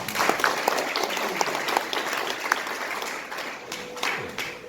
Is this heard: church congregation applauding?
yes